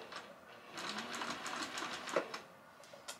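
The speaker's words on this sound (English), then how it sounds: "I am just going to do a few stitches forward and a few stitches back to backstitch to hold all of those stitches in place" A domestic sewing machine stitching a quilt, running a few stitches forward then back in a steady rapid mechanical chatter, close and moderately loud throughout.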